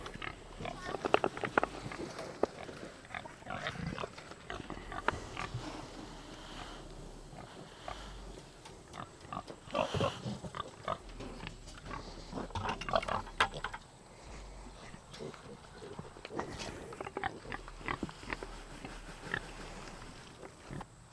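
Pigs grunt and snuffle in a messy pen, the close oinks coming in irregular bursts through the clip, with rustling and footsteps in the pen and someone talking over the animals.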